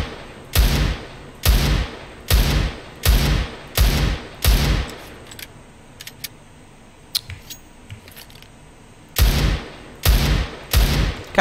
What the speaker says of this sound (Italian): Sentiamo un po' il cannone a mano come suona.